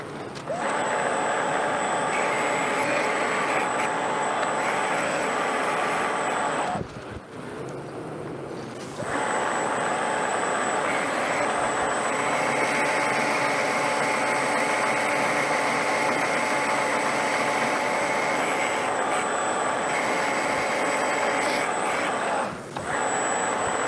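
Metal lathe taking a heavy roughing cut on a balancer spacer, a loud continuous whine with a steady high tone that runs throughout and dips briefly twice.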